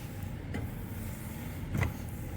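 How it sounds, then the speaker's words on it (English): Wiper motor on a 1988 Chrysler Fifth Avenue runs with a low steady hum, while two brief sweeping thumps mark the wipers passing, heard close inside the car. "the wiper motor actually working."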